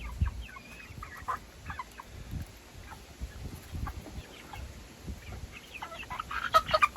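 Young Diva chicks of mixed breeds, including an opal egger and a lavender Orpington, cluck and cheep in scattered bursts. The calls are close and moderately loud over low farmyard rumble, and they get busier toward the end.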